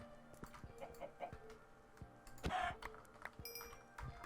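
Several chickens cluck in short bursts amid light background noise in Minecraft 1.10, with one louder squawk near the middle.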